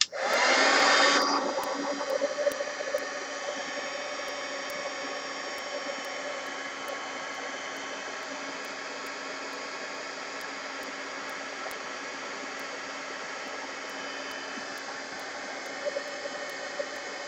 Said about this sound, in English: I need to dry this. So heat gun.